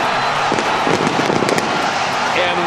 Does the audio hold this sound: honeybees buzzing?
no